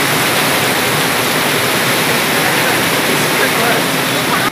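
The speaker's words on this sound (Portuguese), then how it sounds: "O temporal que caiu em Pouso Alegre no início da noite desta sexta-feira, 13 de dezembro, alagou várias ruas da cidade." Storm floodwater rushing through the streets of Pouso Alegre during an evening downpour makes a loud, continuous broadband roar that holds steady throughout and cuts off abruptly at the end.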